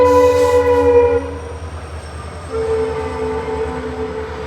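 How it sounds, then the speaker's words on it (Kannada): A train rumbles past close by, its horn blaring in long sustained tones that shift pitch partway through, over a steady mechanical roar. "ಕರೆಕ್ಟಾಗಿ ವಿಡಿಯೋ ಎಡ್ ಮಾಡೋ ಟೈಮಲ್ಲಿ ಟ್ರೈನ್ ಬಂದುಬಿಡ್ತು"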